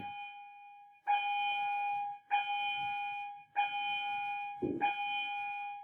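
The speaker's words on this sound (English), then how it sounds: "we're going to hear the bell ring a little bit." An electronic bell or alarm rings in five repeated bursts, each sustained about a second with brief gaps, fairly close and clear.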